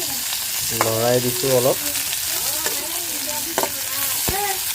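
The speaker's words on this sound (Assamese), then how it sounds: "পিঁয়াজ দি অলপ সময় লৰাই দিছোঁ" Onions stirred and frying in leftover oil in a pan make a steady sizzle with scraping strokes, while someone speaks over it at times.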